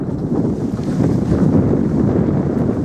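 Strong storm wind buffets a sailboat at sea, a dense, continuous roar of gusts and wind noise hitting the microphone, with waves washing underneath throughout.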